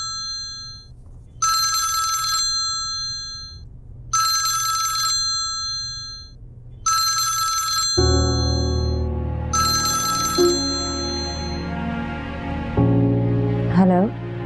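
A telephone ringing indoors: four bright, evenly spaced electronic rings, each about a second long, followed by a busier musical ringtone passage with voices talking underneath.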